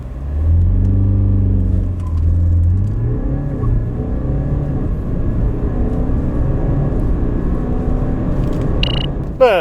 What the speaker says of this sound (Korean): 이 320D 과연 얼마만큼의 가속 성능을 보여주는지 한번 확인해 볼까요?